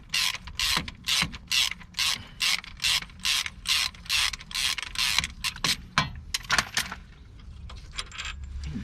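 A ratchet wrench clicks in quick rhythmic bursts, about fifteen even strokes then a few looser ones, close up while the crankshaft bolt comes out of a Peugeot 407 2.0 HDi during a timing belt job.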